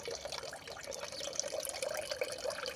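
Water trickling and dripping from two stacked plant pots on a rooftop garden, a steady faint splashing with scattered drips, fairly quiet and continuous.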